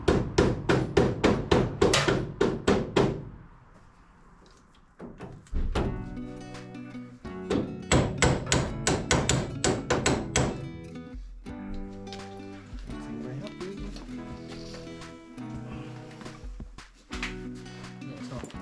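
Rapid bursts of hard knocks from a mallet striking parts during a classic Mini build with a Rover K-Series engine, close and loud, in several quick volleys separated by pauses, with people talking in between.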